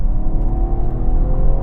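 BMW touring cars, including an M340i, accelerate hard in third gear during a rolling half-mile drag race, a loud sustained engine roar and whir that holds steady throughout without talk.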